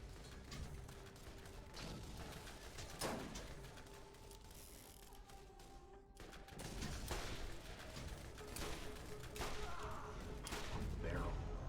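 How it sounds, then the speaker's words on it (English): Combat rifle fire in the video game Borderlands, bursts of shots and mechanical clicks set against a busy game soundscape, with a short lull midway before the action resumes. "Fire combat rifle."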